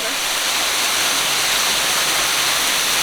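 A waterfall at Devils Den State Park in Arkansas gives off a steady, dense roar of falling water, even and unbroken from start to finish with no clear voices.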